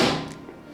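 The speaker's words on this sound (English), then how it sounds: "make sure to close the door properly" A microwave oven door in a penthouse kitchen shuts with a single soft thunk at the start, fading quickly into quiet room tone.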